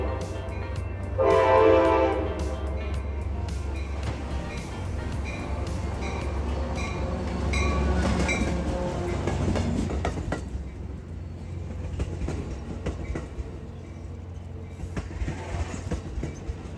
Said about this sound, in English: the train pulling in from Amtrak's Oakland Yard